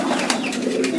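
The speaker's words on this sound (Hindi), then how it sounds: "ये ओवर साइज़ के कबूतर हैं" Oversized male pigeons of the chanda khani type cooing close by, a soft continuous low murmur running for about a second with no talk over it.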